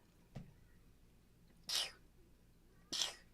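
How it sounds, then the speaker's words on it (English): Two short, sharp sneezes, close by and fairly quiet, separated by a pause, after a faint earlier breath. "Now I'm sneezing."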